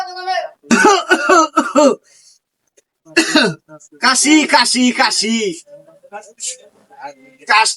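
In a small local pharmacy, a person coughs and clears their throat in several loud, close, harsh bursts separated by short pauses, with voiced effort between them.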